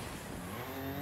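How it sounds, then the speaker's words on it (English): A rally car in the EA WRC video game at Rally Croatia slides under the handbrake, its engine and tires producing a continuous, loud, smeared roar with rising tire squeal over about a second, with no speech. "I tried using the handbrake."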